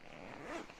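The zipper of an Osprey Tempest 24 hiking and travel backpack is pulled open, giving a brief, quiet, close-up rasping slide.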